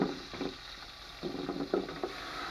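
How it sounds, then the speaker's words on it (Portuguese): Sizzling and crackling as free-range chicken is seared with garlic and onion in a pan on a wood-fired stove, a steady frying hiss with irregular bursts of spattering, close and fairly loud, no voices. "vou deixar dar aquela selada nessa carne aqui"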